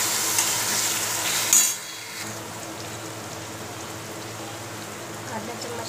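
A spoon stirs turmeric, red chilli, coriander powder and garam masala in a hot pan, giving a continuous gritty sizzle and scrape with a brief louder clatter early on.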